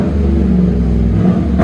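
A Chevy 5.3L V8 breathing through a Cherry Bomb Extreme muffler, with the resonator cut out, rumbles loud and close in a steady deep drone that swells slightly near the end.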